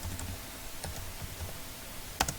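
Typing on a computer keyboard, a quick irregular run of soft key taps close by, ending with a sharper click.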